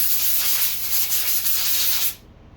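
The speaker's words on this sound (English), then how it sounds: "Clean that off with air." Compressed air blasting to clean a part on a Yard Machines lawnmower: a loud, steady, close hiss lasting about two seconds, then cutting off sharply into quiet.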